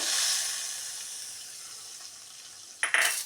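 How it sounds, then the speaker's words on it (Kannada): Tempering spices sizzle in hot oil for a tambli, a soft steady hiss that tapers off, then a sudden louder burst of spitting crackle at the end. "ಒಗ್ಗರಣೆ ಹಾಕಿಡೋಣ."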